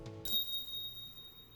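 A bell rings out once in the visual novel game Never 7, striking sharply and leaving a bright, sustained tone that slowly fades over low background music.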